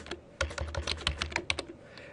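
Close, quick typing on a computer keyboard, about a dozen crisp key taps in an uneven rhythm with no voice over them.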